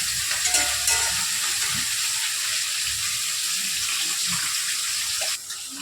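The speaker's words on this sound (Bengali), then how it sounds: "বন্ধুরা পেঁয়াজটা ভাজা ভাজা হয়ে গেছে" Onions frying in a pan give a loud, continuous, close sizzle with a few faint stirring knocks underneath. No one speaks.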